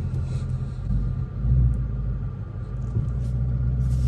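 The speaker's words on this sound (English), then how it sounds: "This will burn out real quick." A 2021 Ford Mustang Mach 1 on Cup 2 tires holds a steady, loud low rumble during a burnout, with engine drone swelling slightly midway and holding strong throughout, no talk over it.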